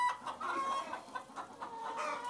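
Hens clucking on an organic farm, several short murmuring clucks in quick succession at close range, with no talk.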